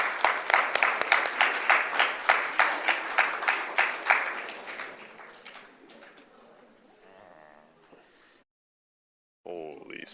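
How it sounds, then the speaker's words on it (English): An audience applauds a student presenter at a senior internship event: dense clapping for about four seconds that thins out and fades, followed by near silence and a brief voice at the end. "come on up and give him a round of applause."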